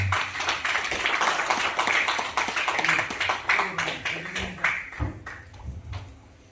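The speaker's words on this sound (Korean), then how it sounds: "환영의 박수 부탁드리겠습니다" Welcoming applause from the audience at a local autonomy forum as the culture center director is introduced, moderately sized clapping with distinct individual claps that rises, then tapers and thins out near the end.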